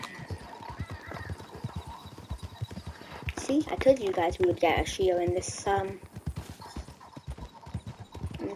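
Horse hooves clip-clop in Red Dead Redemption 2 at a steady walk, close and rhythmic throughout, with someone talking over the middle stretch.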